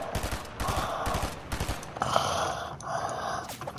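Sniper shots in the video game Fortnite, several sharp loud cracks spaced irregularly over a few seconds amid game ambience.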